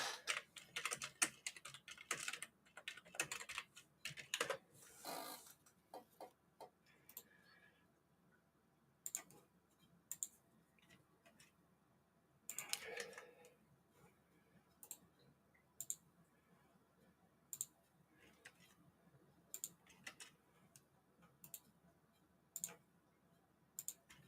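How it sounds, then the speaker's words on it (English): Computer keyboard typing in bursts of rapid key clicks, busy at first and then sparser taps spread out, fairly quiet in a room with faint speech. "Stop typing."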